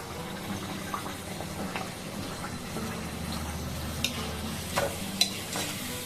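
Layered paratha frying in a pan, giving a continuous soft sizzle with light scraping and a few sharper clicks of a spatula toward the end, no talking.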